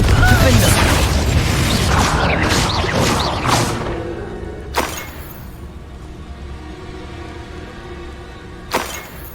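A Confringo spell detonates in the Hogwarts Legacy video game with a heavy, noisy burst that fades into a low rumbling tail, followed by two sharp, sudden impact cracks spaced several seconds apart.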